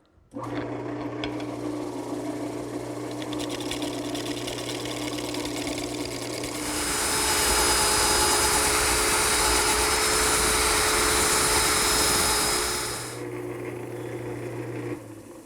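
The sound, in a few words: wood lathe turning a wooden bowl with a round nose scraper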